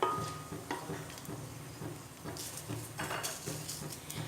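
Whole spices sizzling in hot oil for a chicken stew while being stirred, faint close frying hiss with soft, irregular scraping and clinking strokes, no talk.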